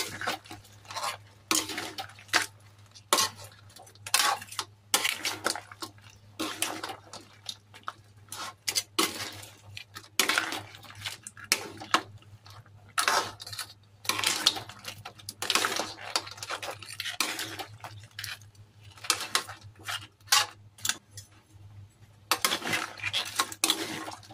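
Shrimp and crab are stirred in a metal pan, with a spoon or spatula clinking and scraping in quick, irregular strokes over a steady low hum, close and fairly quiet.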